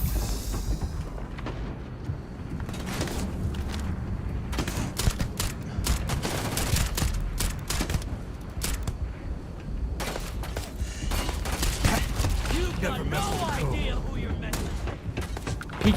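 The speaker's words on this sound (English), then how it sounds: "Somebody's shooting rockets for sure" Rockets and heavy gunfire in Starfield combat, a chaotic stream of sharp blasts and booming impacts, some near and loud, others more distant, with a person talking over the shooting.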